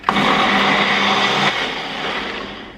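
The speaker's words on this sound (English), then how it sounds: "I'm just putting this with the pears into the blender and literally just blend." A kitchen blender runs loud and steady, blending pears into baby food, a dense whirring roar that drops in pitch and level partway through as the load settles, then carries on to the end.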